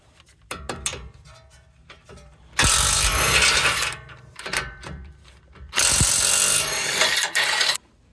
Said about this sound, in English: take these 22s off